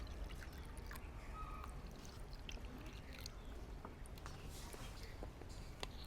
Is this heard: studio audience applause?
no